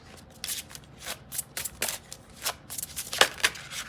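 Tarot cards being shuffled and flipped over during a Pisces reading, a run of crisp, papery riffles and snaps that come in irregular bursts up close, with no voices over them.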